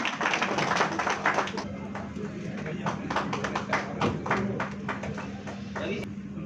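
An audience claps at a Bihar Foundation gathering in a hall: a sustained spatter of handclaps with sharper individual claps standing out, mixed with voices and a steady electrical hum from the sound system.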